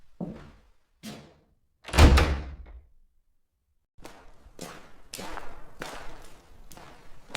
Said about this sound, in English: The door shut on its own.